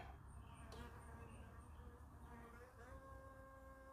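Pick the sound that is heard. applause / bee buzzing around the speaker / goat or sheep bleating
bee buzzing around the speaker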